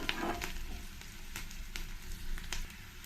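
Ghee tempering frying in a pan for bisibelebath, a steady close crackling sizzle with brief louder pops spread through three seconds, no voices.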